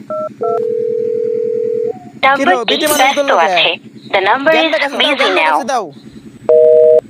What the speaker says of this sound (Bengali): নাম্বারটি ব্যস্ত আছে